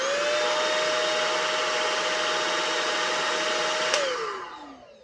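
A Shark Rocket stick vacuum cleaner runs on its low speed setting, a steady, close, loud whine with a high pitched tone that winds down and fades at the end.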